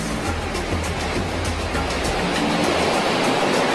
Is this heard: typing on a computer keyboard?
no